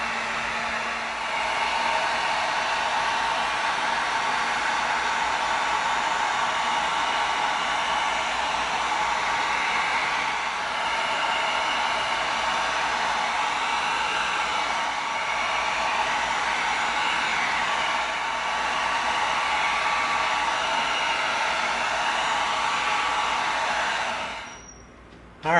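A steady, loud blowing heat gun runs almost continuously, sealing the edges of an EVA foam bow, before cutting off near the end.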